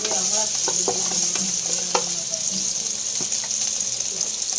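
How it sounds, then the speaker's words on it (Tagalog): Ginger sautés in a frying pan still oily from frying fish, with sizzling and crackling under scattered stirring clinks and scrapes, steady and close. "magigisa na ako. Same pan pa rin yung pinagprituhan. Nagtanggal lang ako ng kaunti. Luya."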